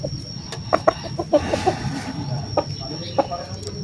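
A maimed chicken clucks in short, sharp bursts, several scattered clucks close by over a low background murmur.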